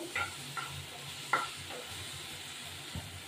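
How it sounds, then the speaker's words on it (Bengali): Okra fries in oil with whole chillies, giving a soft, steady sizzle broken by a few brief scraping stirs and one sharp clink. "ঢেঁড়সটা তেল দিয়ে ভাজছি, পাতা গোটা লঙ্কা দিয়ে দেবো"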